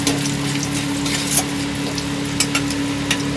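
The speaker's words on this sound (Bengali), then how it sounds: "এইটা দেখুন লঙ্কাটা আমি কেটে নিয়েছি এইভাবে, দিয়ে তেলের মধ্যে দিয়ে দেবো, দিয়ে হালকা করে একটু নেড়ে চেড়ে দেবো।" Chopped green chilli frying in a little oil in a pan, a steady close sizzle with a few soft scrapes and taps as it gets stirred, no talking.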